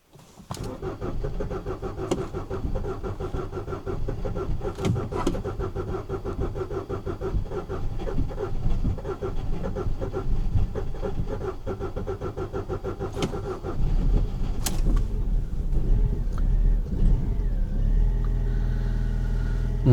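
A car engine on a frosty day cranks steadily for a long stretch, then catches and settles into a loud, continuous idle, heard close and alone without talk.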